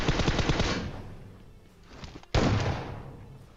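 In the PUBG Mobile video game, loud bursts of automatic gunfire rattle out, with a rapid string of shots fading away and then a sharp new burst.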